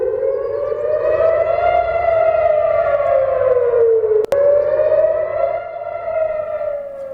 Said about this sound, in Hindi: सायरन की आवाज सुनाई दे रही है